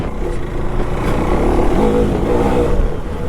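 A 390cc adventure motorcycle engine in second gear gives a steady mid-range drone, swelling slightly as the throttle is blipped, close and continuous throughout.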